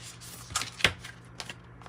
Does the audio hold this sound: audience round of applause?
no